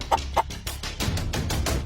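Two quick clucks from a hen, close by, followed by shuffling and rustling noises that fill the rest of the moment.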